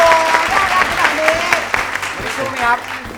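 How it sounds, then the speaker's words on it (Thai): A TV studio audience claps and cheers while a host talks loudly over them, the applause busy and continuous under the speech. "ปรบมือสิครับ"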